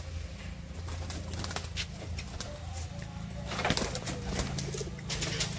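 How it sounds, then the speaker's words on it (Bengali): Pigeons coo in soft repeated phrases with occasional wing flutters, fairly close, over a steady low background hum with no talking. "তো ওই পায়রার সামনের পেয়ারটার খেলা তোমাদের দেখাচ্ছি।"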